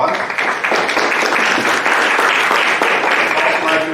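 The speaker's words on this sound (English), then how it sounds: "Thank you for your support. A round of applause." Applause from the audience at a Hagerstown City Council election forum, a steady dense wash of clapping that stays loud and even throughout.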